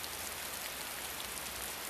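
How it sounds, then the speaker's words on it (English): Steady rain falls continuously, a dense, even hiss of drops without pauses or distinct individual hits, moderately loud and close, with no voices present. "Yes, rain."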